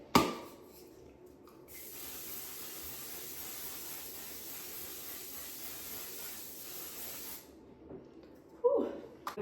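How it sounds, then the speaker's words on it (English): One Size Until Dawn mattifying waterproof makeup setting spray misting in a long, steady hiss lasting several seconds, close and fairly quiet, with soft handling noises before and after. "I'm gonna finish off with the One Size Until Dawn Mattifying Waterproof Setting Spray"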